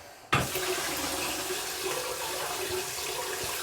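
Running water splashes steadily in a bathroom sink as a razor is swirled through hot water, a sudden onset followed by continuous close, fairly loud flow with no talking.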